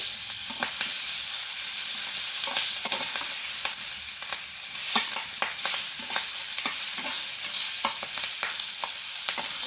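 Fish bones fry lightly in oil in a pan, giving a bright continuous sizzle dotted with frequent crisp pops and the scrape of stirring, close and steady with no voices.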